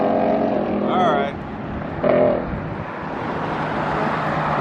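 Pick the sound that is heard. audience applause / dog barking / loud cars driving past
loud cars driving past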